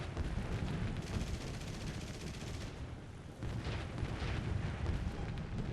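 Anti-aircraft artillery fires in the War Thunder video game during a fight between World War II fighter planes, heard as a dense, continuous roar of rapid bursts and rumbling blasts with no talking.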